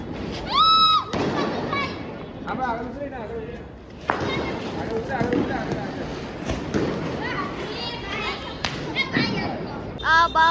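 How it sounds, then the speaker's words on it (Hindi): Firecrackers burst during Diwali celebrations, with sharp cracks and thumps spread across the clip, a whistling rocket near the start, and voices talking throughout. "बहुत सारे पटाखे लाई है मिर्ची, तो बहुत सारे पटाखे लाई है।"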